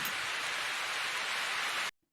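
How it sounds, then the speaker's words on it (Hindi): Heavy rain pours in a dense, loud, steady hiss for nearly two seconds, then cuts off abruptly into silence. "अचानक बातें करते करते तेज़ बारिश होने लगी।"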